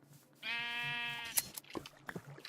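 A single clear sheep bleat from a Minecraft sheep, a wavering sustained cry of about a second, followed by soft clicks and faint game sounds.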